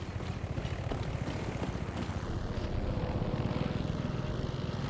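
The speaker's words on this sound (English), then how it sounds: "I hope that stinking chopper don't see me." A helicopter in the video game Far Cry 6 flies nearby, its rotor throbbing in a loud, continuous rapid chop that fills the scene with no voices over it.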